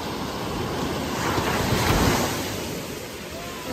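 Ocean waves wash onto a beach in Maui in a steady, broad surf roar that swells slightly midway, with some wind buffeting the microphone.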